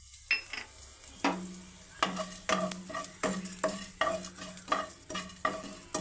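Cumin seeds and black peppercorns dry-roast in a pan at close range, with a soft sizzle under repeated scraping strokes of a spoon stirring them about, roughly every half second, and no talk.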